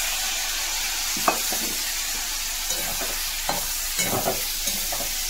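Spices and salt fry in white cooking oil for a kohlrabi curry, a constant close hiss punctuated by repeated scraping stirs of a spatula against the pan, no voices.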